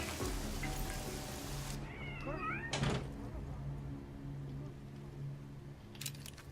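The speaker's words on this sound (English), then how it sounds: "Is there a kitty cat in here?" A cat meows inside a stealth detective video game, a short rising-falling call in the middle over a steady low ambient hum, with a brief knock-like thud and soft background noise around it.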